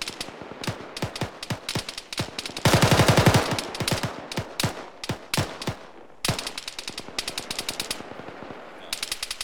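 Machine gun fire in a squad shooter video game, rapid bursts of automatic shots with short gaps and a sustained dense volley in the middle, loud and close, no speech.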